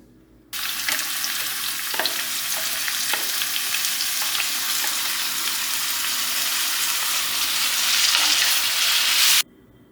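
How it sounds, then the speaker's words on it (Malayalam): Tomato, onion and green chili sautéing in hot coconut oil, a steady close sizzle and crackle with occasional stirring scrapes, loud and continuous throughout with no talking. "ഇനി പതുക്കെ നമുക്ക് തക്കാളിയും ഉള്ളിയും പച്ചമുളകും അതൊന്നുണ്ട് ഇട്ട് നന്നാക്കി വഴറ്റിയെടുക്കുകയാണ്"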